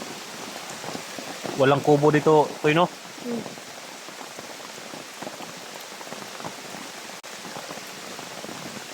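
Steady rain patters on a surface throughout, a continuous close hiss, while a few people speak briefly near the start and other voices murmur beneath.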